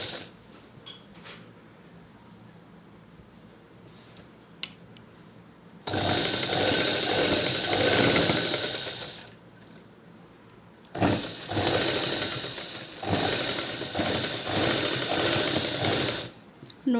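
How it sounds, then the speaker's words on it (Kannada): A tailoring sewing machine stitches a fall onto a saree in two loud, whirring runs of several seconds each, separated by quiet pauses filled with faint handling clicks. "ಫಾಲನ್ನು ಸ್ಟಿಚ್ ಮಾಡಬೇಕು."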